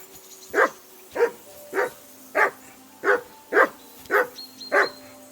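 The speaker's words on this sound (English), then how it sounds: "Our first task is to call our dog so it stops barking." A dog barks in the medieval game Kingdom Come: Deliverance II, eight evenly spaced barks about half a second apart, clear and close over a quiet background.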